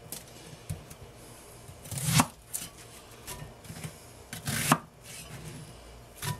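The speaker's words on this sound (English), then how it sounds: "for this recipe, we can just cut it into eighths" A knife cuts a vegetable into eighths on a board for chile verde: two distinct firm chopping thunks a couple of seconds apart, with quieter cuts and handling in between, close and without speech.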